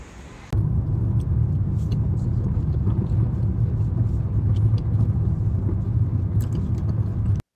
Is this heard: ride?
yes